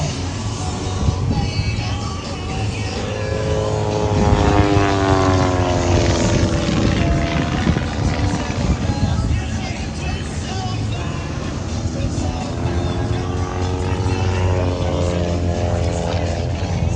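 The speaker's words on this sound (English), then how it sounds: "This airplane was built back in 1939 and has been heavily modified to be the aerobatic performer you're seeing right now." A heavily modified 1939 Taylorcraft with clipped wings, flying aerobatics at an airshow, drones with a propeller engine note that rises and falls in pitch as it sweeps past and climbs. Crowd noise and a loudspeaker voice come through faintly underneath.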